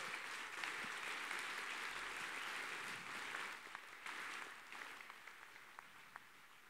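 An audience at a keynote opening applauds an artist, broad steady clapping filling the room at a faint, distant level, thinning toward the end into a few scattered individual claps.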